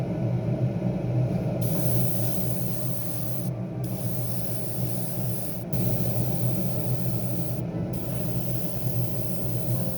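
Steady spray gun hiss while primed BMW M4 G82 wide body kit panels are painted, a continuous broadband rush lasting throughout with brief dips where the trigger pauses, close and fairly loud with no talk.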